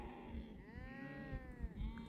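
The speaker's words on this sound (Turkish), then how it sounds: "Bizim koyun da fazla korkmuyor arkadaşlar." Sheep bleat on a highland summer pasture, several wavering cries overlapping close by above a low rumble of outdoor noise.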